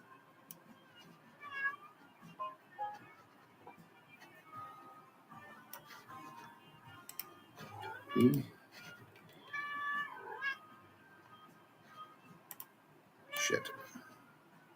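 A cat meows several times in short bursts at moderate distance, with a person talking casually over and between the calls indoors.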